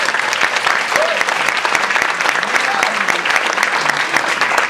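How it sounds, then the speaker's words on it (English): A banquet hall audience at a beef cook-off gala breaks into dense, sustained applause, many hands clapping evenly and loudly throughout with no pause. "Big round of applause."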